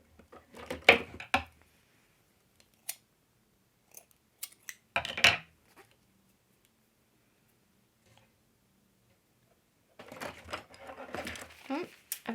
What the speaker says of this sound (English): Now I'm going to trim off the end because it's got a fuzzy end.